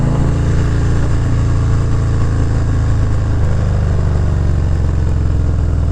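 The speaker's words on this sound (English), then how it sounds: "Hear that exhaust? That Cobra exhaust is pretty good, man." A motorcycle with a Cobra exhaust rumbles loud and close, a deep steady throaty drone with no talking over it.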